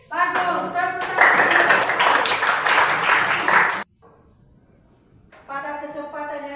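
A school class claps together in a classroom: about three seconds of loud, close, fast clapping that stops abruptly, then a pause before a voice speaks.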